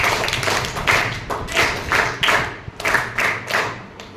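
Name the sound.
class clapping three times for a student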